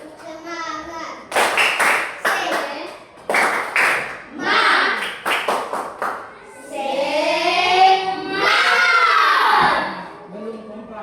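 Children chant a rhythmic 'tepuk semangat' clapping cheer in class, sharp grouped hand claps alternating with shouted sing-song lines, then a longer drawn-out group shout, all close and lively.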